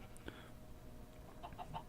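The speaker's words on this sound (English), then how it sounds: "we shouldn't be hearing chickens" Chickens clucking in the video game Minecraft, heard faintly and at a distance during cave exploration, with a few soft clucks in quick succession near the end.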